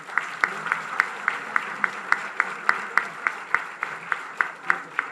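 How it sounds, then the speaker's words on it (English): An audience claps in steady, even rhythm for Madam Governor at a cancer hospital event, with sharp regular claps about four per second, a standing ovation with no speech on top. "A standing ovation with loud applause to Madam Governor."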